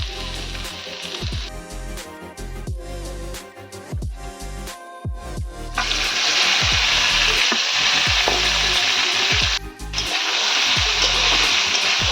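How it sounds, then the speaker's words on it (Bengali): Small pieces of paneer fry in a little oil in a kadai with a steady loud sizzle, broken by repeated clinking stirs of a utensil against the pan at close range. "এবারে ওই পনিরটাই আমি ভালো করে ভেজে নিচ্ছি"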